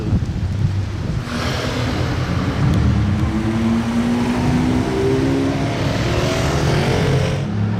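A Porsche 911 GT3 RS sports car engine drones past nearby, its pitch rising and then sliding down, with wind rumbling against the microphone underneath.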